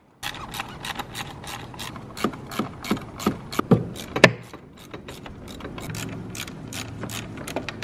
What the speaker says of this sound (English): you're going to have to remove all the 10mm bolts